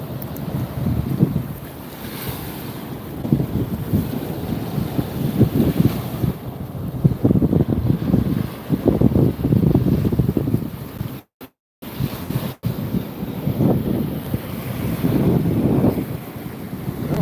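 Gusty wind roars across the microphone in uneven bursts on Navarre Beach, Florida, with waves washing faintly underneath and a couple of brief dropouts.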